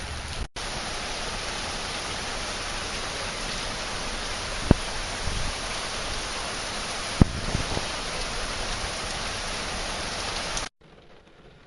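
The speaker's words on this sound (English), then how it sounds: "it's actually quite a bit of rain, as you can see" Steady rain hisses evenly over a yard with puddles in Florida, with a couple of sharp drips or taps standing out before it cuts off near the end.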